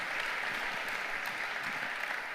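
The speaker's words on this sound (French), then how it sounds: "on peut les applaudir" Audience at a talk on deepfakes and voice cloning applauds, a soft, even wash of clapping heard from a distance without pause.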